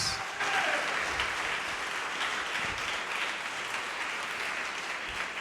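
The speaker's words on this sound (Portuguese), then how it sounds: "Pode aplaudir e glorificar a Deus." A congregation applauds during a church service, a dense, steady wash of many hands clapping that stays loud and even for several seconds, with no voices standing out.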